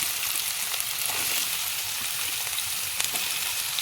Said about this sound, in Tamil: வெங்காயத்தை போட்டு வதக்கிக்கலாம்.